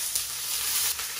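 Red onion frying slowly in vegetable oil in a hot pan, a steady close sizzle with a faint crackle that swells briefly twice, no talking.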